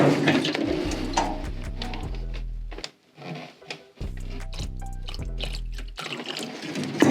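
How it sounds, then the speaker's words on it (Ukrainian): Solvent glugging from a container into epoxy automotive primer in two bursts of gurgling pour, broken by a short quiet gap, with faint handling clicks around it. "Розчинник додаємо, звичайно, не так, тому що він буде хлюпати, а розвертаємо клапаном догори."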